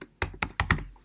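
Four distinct keystrokes on a computer keyboard, close and fairly loud, tapped in a quick uneven rhythm with short quiet gaps and no talk.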